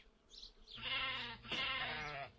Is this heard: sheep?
yes